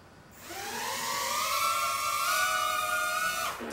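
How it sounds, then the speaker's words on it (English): Tiny motors of a Cheerson CX-10 mini quadcopter drone spool up as it takes off, a close high-pitched whine rising in pitch and holding steady before cutting off abruptly. "Try to give a little bit of throttle now, it should take straight off."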